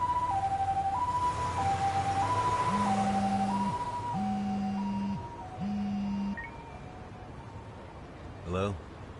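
An ambulance siren in the video game Lost Judgment wails in a two-tone hi-lo pattern, alternating steadily for several seconds over traffic rumble, joined by a repeating low electronic tone, then fading out before a brief buzzing blip.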